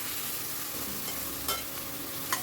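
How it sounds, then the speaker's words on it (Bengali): Tomato, ginger-garlic paste and salt sizzle steadily in a frying pan as a spoon stirs them, with two brief scraping knocks against the pan. "এবার সব কিছু ভালো করে মিশিয়ে নিচ্ছি।"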